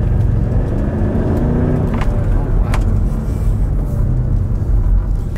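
Mercedes SL550 running on the road after being repaired, a steady close rumble of engine and road noise that continues throughout with no talk.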